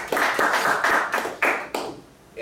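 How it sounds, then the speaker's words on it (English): A meeting audience gives a round of applause, heard as a series of sharp, close clap bursts in an uneven rhythm that trails off into quiet. "I think we should all kind of give a round of applause for that."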